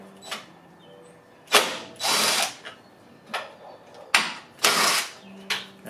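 A hand ratchet loosens the 1/2-inch hex battery tray screws on a 2020 Harley-Davidson Road King Special, giving close, crisp clicking bursts in an uneven rhythm with short pauses between strokes.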